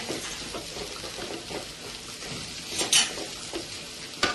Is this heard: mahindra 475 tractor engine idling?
no